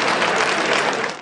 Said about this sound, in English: scientists broke out in applause